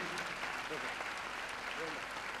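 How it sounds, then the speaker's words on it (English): Fans applaud at a concert show, a steady, muffled bed of clapping that holds at an even level throughout, with brief vocal sounds rising over it. "A big fan applause, please"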